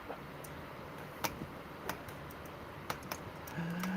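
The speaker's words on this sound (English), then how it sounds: "So David, He was typing very loud" Computer keyboard typing in scattered, sharp isolated clicks, quiet and close, over a faint steady hum, ending with a steady tone that rises in the final half second.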